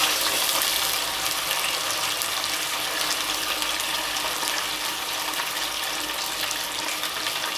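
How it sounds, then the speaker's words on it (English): Fish frying in hot oil in a pot for Jamaican brown stew angelfish: a continuous, loud, even hiss and sizzle, close by and unbroken throughout. "So now I'm going to put the fish into the hot oil"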